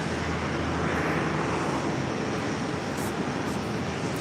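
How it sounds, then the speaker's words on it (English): A Delta Airlines Airbus A330-300 arriving at JFK makes a broad, steady engine rush, loud and continuous without clear rise or fall, with no voices. "Next arrival on 4 rights, Delta Airlines Flight 29 coming up from Nice."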